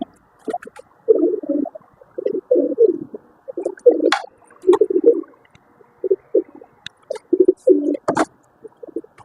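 Golden Indian pigeons coo on a rooftop, a close run of soft, throaty, repeated coos in short bursts with brief pauses, plus a few sharper calls in the mix.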